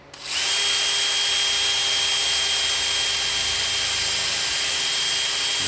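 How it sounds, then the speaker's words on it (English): A power drill spins up and runs in one steady, loud whine, drilling out a rivet head on a Studebaker door without a break. "We'll give it a quick drill here."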